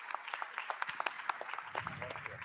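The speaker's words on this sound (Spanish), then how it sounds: "Le damos un aplauso y una bienvenida." Audience at a peace-building forum panel in Mexico giving a short, fairly faint round of scattered clapping to welcome a speaker, with some murmuring underneath.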